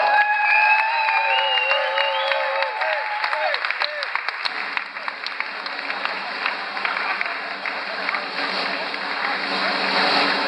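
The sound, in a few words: audience applause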